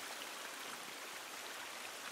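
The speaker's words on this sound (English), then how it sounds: "Hear that running water?" A running water stream in a video game, heard as a steady, soft, even rush of flowing water that continues without a break and with no voices.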